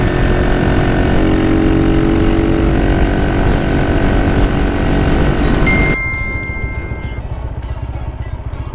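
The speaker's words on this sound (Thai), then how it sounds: "เสียงเครื่องมันจะดีกว่าเดิมนะครับ ดีกว่ากล่องเดิมนะครับ" Honda Sonic motorcycle fitted with an API aftermarket ECU box idling nearby, a steady loud engine drone that continues throughout and softens slightly toward the end.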